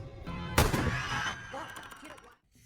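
A single sharp gunshot cracks in an action film about a sniper targeting corrupt officials, ringing out loud and then trailing off before a sudden silence.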